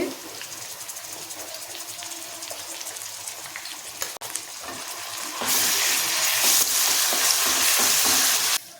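Onions and curry leaves fry steadily in hot oil with stirring, then the sizzle swells sharply louder and brighter as ginger garlic paste goes into the pan, staying close and continuous to the end.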